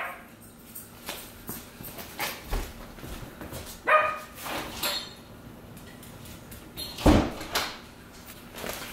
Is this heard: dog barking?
yes